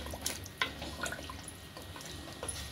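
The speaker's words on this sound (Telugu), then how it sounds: "ఇప్పుడు మనం దీనికి వాటర్ మంచిగా పోసినా అండి" Water poured into goat leg paya curry in a cooking pot, a soft close trickle with scattered drips and splashes over a low, steady background.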